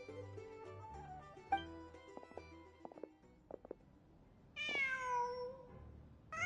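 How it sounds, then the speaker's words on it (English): A cat in Genshin Impact gives a clear, rising meow near the end, preceded by soft game music and a few faint clicks and taps. "Just a cat."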